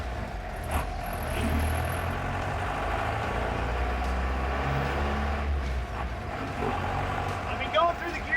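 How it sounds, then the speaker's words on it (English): Old fuel truck's little four-cylinder engine running with a loud, steady low rumble and rattle throughout, under intermittent talk in the cab. "that little 4-cylinder makes a lot of racket"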